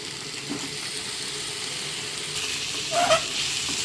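Chicken sizzles in hot oil with onions for a chicken sukka, a steady close frying hiss with a brief louder crackle and spatter near the end.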